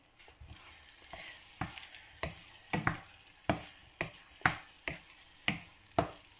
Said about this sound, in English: this a lemon shredded. And let's mix on it a little.